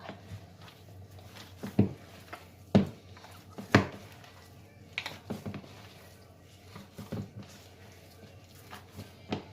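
Chilled minced beef kneaded by hand for Thai-style beef meatballs gives irregular soft slaps and dull thumps, several sharper ones early on, over a quiet room background.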